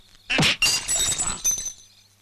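A glass bottle falls and shatters in a Tamil comedy film scene: a loud, close crash followed by a scattering of bright shards and tinkles that die away within about two seconds, with no talking.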